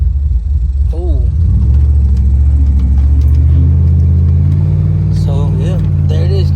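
Engine of a 2wd swapped Yukon Denali with 456 gears, a loud steady deep rumble idling and pulling close by, with someone talking over it.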